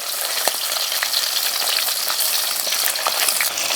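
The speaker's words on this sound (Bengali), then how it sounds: "মাছটা খুব বেশি ভাজবো না, কোনোরকমভাবে উল্টে পাল্টে ভেজে নেব।" Pieces of katla fish fry in hot oil in a pan over high heat, a dense, loud, continuous sizzle with fine crackles and small pops throughout, with no talk.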